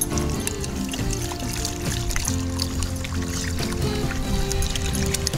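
Water is poured for a dog on a hot day, splashing and trickling steadily into a bowl for several seconds close by.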